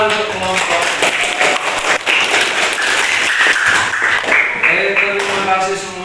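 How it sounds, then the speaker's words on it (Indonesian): Students in a classroom clap for a group during a teaching practice session, uneven applause mixed with talking voices throughout. "Kelas dan tepuk tangan untuk kelompok."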